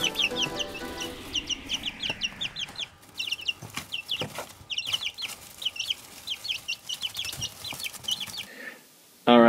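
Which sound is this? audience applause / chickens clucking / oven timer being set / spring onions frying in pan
chickens clucking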